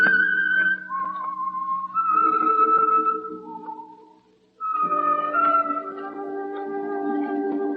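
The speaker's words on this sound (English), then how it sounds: "That whistle is your signal for the Signal Oil program, The Whistler" A lone whistler performs the eerie theme of The Whistler radio drama, a clear, melodic, slightly wavering tune in sustained notes, briefly pausing before resuming, heard alone.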